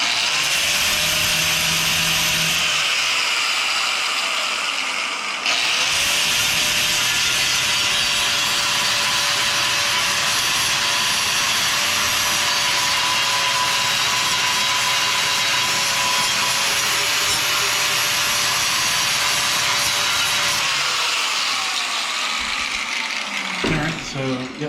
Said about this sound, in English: Let me grind this corner down real quick.